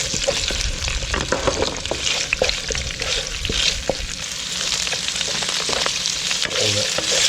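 Pieces of cuttlefish sizzle and spit in a hot pan, a continuous crackling fry broken by scattered pops and a few scrapes of stirring, heard up close with no voices.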